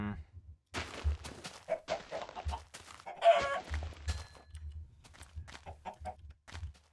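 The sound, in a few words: chickens clucking in video game Minecraft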